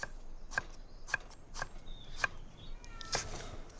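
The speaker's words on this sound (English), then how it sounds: "Antonio, the cats, I can hear the cats." Several cats meow in short calls, close and fairly loud, over a faint background hum with a couple of soft knocks.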